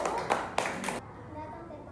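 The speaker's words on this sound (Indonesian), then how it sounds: "Tepuk tangan untuk mereka juga dulu." A school classroom of students claps together for about a second in a short, brisk burst of bright hand claps. A teacher's voice is heard just before and around the clapping.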